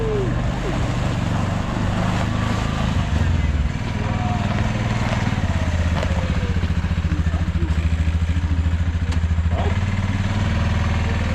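A Kymco MXU 550 ATV engine running steadily nearby, with a throbbing, clattering rumble as it pulls off and keeps going, loud and continuous.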